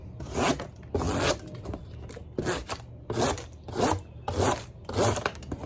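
A Demko Freereign knife with a MagnaCut steel blade slices through cardboard in six quick, evenly spaced rasping strokes, each a short scratchy tearing burst with brief pauses between.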